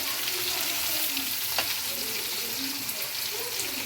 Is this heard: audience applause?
no